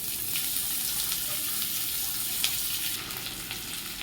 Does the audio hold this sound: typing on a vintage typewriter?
no